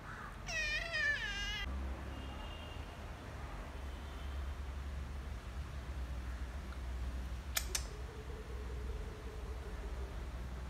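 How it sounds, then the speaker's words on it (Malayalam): A cat gives one clear, wavering meow near the start, followed by a faint, brief squeak and a steady low background hum with a short click later on. "പാവം പൂച്ചയാണ് കേട്ടോ."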